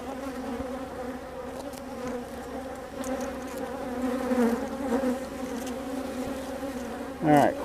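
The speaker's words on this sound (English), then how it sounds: "Well, I got some bees after me. They're not happy." Agitated honeybees drone steadily around a beehive, a dense close buzz that swells slightly midway, with a brief louder sound near the end.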